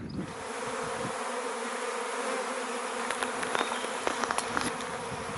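Honeybees buzz around a swarming hive on a post outdoors, a dense continuous hum with individual bees zipping close past now and then, steady and moderately faint.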